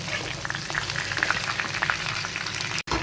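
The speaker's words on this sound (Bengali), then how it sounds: "দেখো চিকেনটা মোটামুটি ভাজা হয়ে গেছে।" Chicken pieces fry in a pan with chilli powder and sugar added, giving a steady close crackling sizzle with scattered pops that runs throughout and cuts out briefly at the end.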